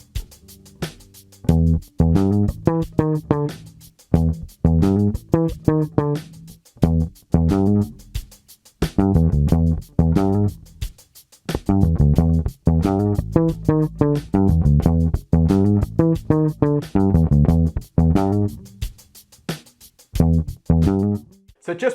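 A funk bass guitar riffs over a drum kit groove, plucked notes in short syncopated bursts with steady hits between them, loud and continuous throughout with no talking.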